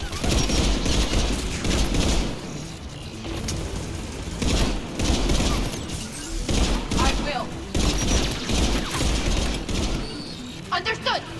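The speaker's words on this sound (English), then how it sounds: "Mounted turret." Sustained heavy gunfire from a mounted turret in the video game Mass Effect 3, loud rapid bursts with booms and impacts running almost continuously, briefly easing mid-clip, with voices speaking underneath.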